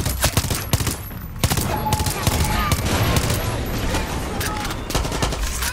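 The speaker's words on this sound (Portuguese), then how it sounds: "Eu vou atirar em todo mundo, isso sim." Loud, continuous gunfire from the video game Far Cry 6, rapid automatic bursts and overlapping shots filling the whole stretch with dense, sharp cracks.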